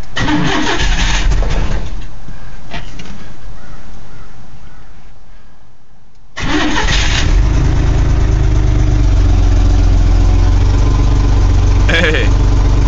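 A carbureted 1982 GMC S-15 pickup engine cold-starts at 35 degrees: a cranking burst, a brief lull as it falters, then a firm catch into a loud, steady, close idle that runs on to the end.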